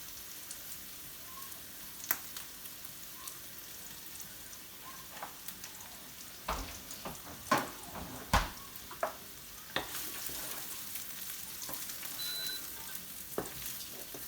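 Spices fry in a pan for a chayote gratin, a soft continuous sizzle close by, broken by a few louder crackles and spoon-scraping stirs.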